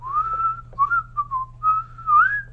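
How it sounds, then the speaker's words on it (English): A person whistles a short, carefree melodic phrase as an idea for a song being composed from scratch, clear and close with gliding notes, alone over a faint low hum. "Yes, adding in whistling, right?"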